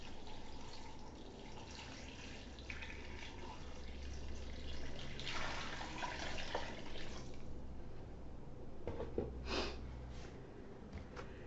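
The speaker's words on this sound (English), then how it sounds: "I'm going to take my bucket and I'm going to pour some water in here" Water is poured from a bucket onto clay at an ancient-clay processing class, a faint, uneven splashing and trickling with brief louder gushes near the middle and end, no voices present.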